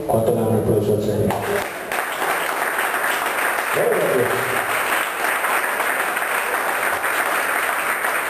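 A church congregation bursts into loud, sustained applause that follows the fading end of a tonal blast and carries on as a dense, even wash of clapping.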